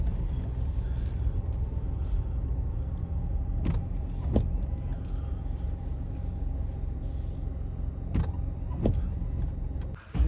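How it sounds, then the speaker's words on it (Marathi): A car drives in and arrives at a village house, a low steady engine hum with a few sharp clicks and thumps, ending with a brief stop. "दुसरी गाडी आता इन होतोय जी माझी"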